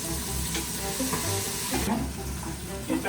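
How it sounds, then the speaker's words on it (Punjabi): Whole spices and tomato roast in a hot pan for chicken pulao, giving a steady close sizzle with scraping stirs and clinks throughout, no voices. "ਉਹੀ ਖੜੇ ਮਸਾਲੇ ਇਹਨਾਂ ਨੂੰ ਬਸ ਇੱਦਾਂ ਹੀ ਭੁੰਨਣਾ ਤੇ ਤਕਰੀਬਨ 2-4 ਮਿੰਟ ਹੀ ਭੁੰਨਣਾ"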